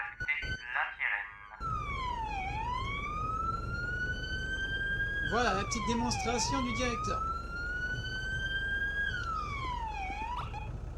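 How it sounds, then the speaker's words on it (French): A police siren from the GTA roleplay video game wails in long rising and falling sweeps, loud and close, with a rapid yelping burst in the middle; someone speaks briefly before it starts. "Quand on n'a pas envie d'avoir la sirène, et on peut rajouter la sirène."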